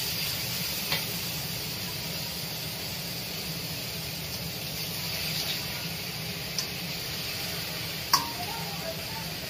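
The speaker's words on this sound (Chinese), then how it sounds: "爆炒小龙虾" Crayfish being stir-fried in a wok during a family dinner: a steady, fairly quiet sizzling hiss runs throughout, with a few faint clicks and taps of cooking tools.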